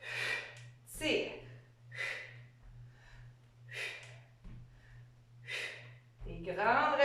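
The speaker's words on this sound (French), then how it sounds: "Des grandes respirations. Des grands souffles." Heavy, rhythmic breathing during an exercise workout, close and fairly quiet: about six forceful exhales and puffs spaced roughly a second apart over a low steady hum, with a voice rising at the end.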